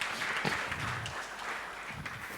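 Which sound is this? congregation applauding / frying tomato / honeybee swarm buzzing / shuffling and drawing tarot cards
congregation applauding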